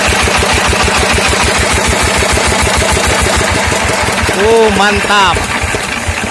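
A Kawamoto 24 HP diesel engine driving a water pump runs with a steady, fast knocking chug close by, then is shut off and winds down near the end while someone speaks briefly.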